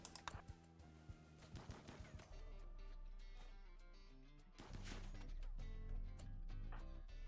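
Rapid gunfire from a RimWorld colony firefight, dense clattering volleys of shots with a steady low drone underneath that swells midway, no talking over it.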